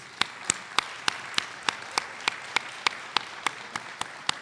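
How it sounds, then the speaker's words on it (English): A luncheon audience applauds the Ambassador with faint, evenly spaced claps in a steady rhythm, each sharp slap standing out over a quiet room. "Let's give another round of applause to the Ambassador, please."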